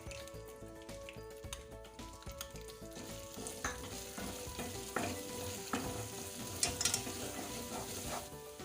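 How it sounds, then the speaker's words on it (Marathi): Sautéed masala sizzles loudly in a wok while a utensil scrapes and stirs around it in uneven strokes, with no talking. "आपण परतून घेतलेली मसाला तो आपण आता याच्यात कढईत टाकून घेऊ."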